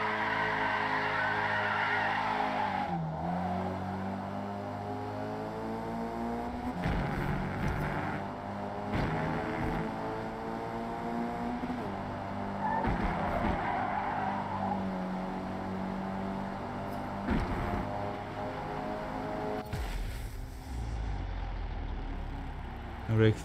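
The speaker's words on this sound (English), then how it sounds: "Ah, ele tá fazendo drift" A car drifting in Forza Motorsport 8, a steady droning engine with a long sliding tire whine, broken by a few sharp dips and a cut near the end, under a voice talking.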